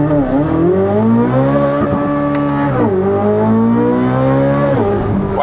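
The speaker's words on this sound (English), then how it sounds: "Let's give it a real quick launch, because I know it launches nothing like the ZR1 either" Chevrolet Corvette Z06 engine roars hard through a launch, loud and close, its pitch climbing and dropping through repeated surges as the revs rise, fall and rise again without a break, with no talking.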